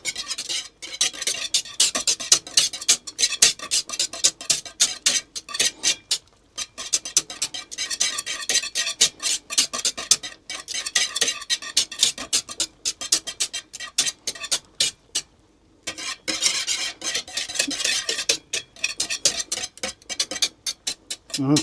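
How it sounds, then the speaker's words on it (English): A whisk scrapes steadily around a pan of homemade butterscotch pudding, making a continuous fast metallic ticking and clatter with a couple of short pauses, loud and close, with no talking. "we'll just whisk that a little bit just to make sure it doesn't heat soak into the bottom"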